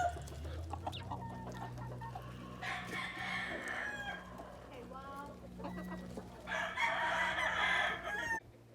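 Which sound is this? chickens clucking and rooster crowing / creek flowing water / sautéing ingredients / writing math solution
chickens clucking and rooster crowing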